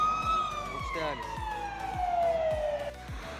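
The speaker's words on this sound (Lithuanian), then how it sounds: "Trečia gaisrinė varo." A fire engine siren wails past on a Sunday morning on the Geležinis Vilkas bridge in Lithuania. One long, loud tone slides steadily downward as the vehicle moves away. Traffic thumps underneath.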